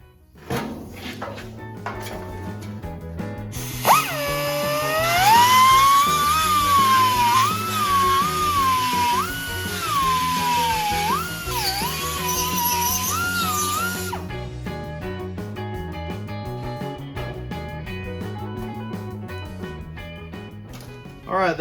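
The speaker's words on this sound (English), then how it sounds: "Use that carbide burr to get these rivets ground out of these corners." A straight grinder fitted with a carbide burr grinds rivets out of the corners of a rusty floor pan on a 1928 Ford Model A hot rod. It gives a steady, close, high-pitched whine that sags and recovers as the burr bites, running for about ten seconds.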